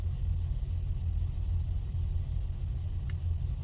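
Peterbilt truck with tall exhaust stacks rolling past, a steady low engine rumble with road noise at moderate distance, no voices.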